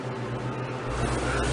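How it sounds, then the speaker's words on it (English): A loud elevator motor at Dillard's in Memorial City Mall in Houston, Texas, running as a steady, noisy hum with a low drone that deepens and grows slightly louder partway through, heard up close without talk. "That is a loud motor."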